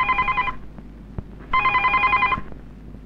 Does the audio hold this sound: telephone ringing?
yes